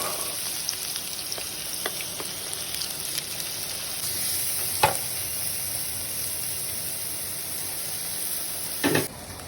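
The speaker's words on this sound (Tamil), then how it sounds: "அது நல்லா வதங்கட்டும்." Chopped onion sautéing in hot oil for a sweet corn butter masala, a steady soft sizzle with occasional faint ladle taps and a brief clatter near the end.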